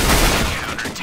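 A burst of rapid gunfire in Counter-Strike: Global Offensive, loud and dense at first and then tailing off within about a second.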